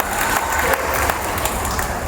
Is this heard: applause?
yes